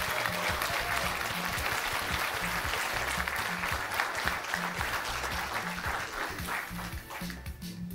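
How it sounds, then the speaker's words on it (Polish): Sustained audience applause on a stage at a community event honoring mothers, dense steady clapping filling the whole stretch at even loudness with no break. "Jeszcze raz brawa dla wszystkich brawa."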